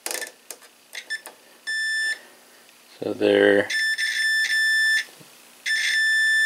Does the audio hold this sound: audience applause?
no